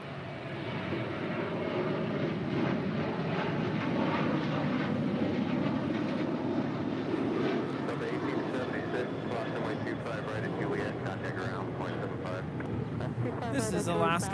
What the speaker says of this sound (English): This is Alaska Airlines